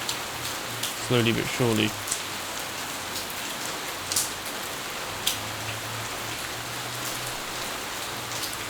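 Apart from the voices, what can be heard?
rain in the video game City 20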